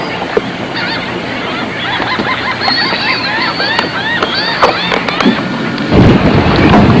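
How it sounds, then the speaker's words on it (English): Stormy weather in Tortugas Harbor near Fort Jefferson in the Florida Keys: steady rain hiss under loud honking geese or fowl, with a deeper rumbling surge of rain or thunder near the end. "We've had some stormy weather come through."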